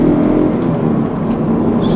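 A stock Mitsubishi 3000GT twin turbo accelerates with a steady, smooth engine drone that stays close and even throughout, fairly quiet for a sports car with no sharp revving peaks.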